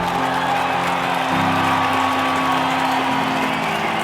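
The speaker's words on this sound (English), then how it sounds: "When you start to come down that last strip and you see the finish line, you start to hear the roar." A dense crowd roars and cheers steadily near a marathon finish line in St. George, Utah, a continuous loud wash of voices and whoops with no pause.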